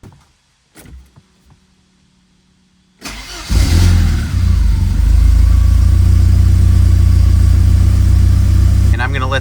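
A Porsche 944 Turbo cranks briefly and then fires up, settling into a loud, steady idle heard close by.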